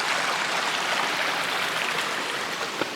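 Steady rush of the Rattle River, a mountain stream on the Appalachian Trail, flowing continuously close by with broadband watery hiss and no voices over it.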